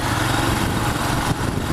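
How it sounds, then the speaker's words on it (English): A Royal Enfield Himalayan motorcycle's long-stroke single engine runs close and loud in a steady, even thrum, with nothing else audible over the brief stretch. "It feels like it's got that lazy, long stroke,"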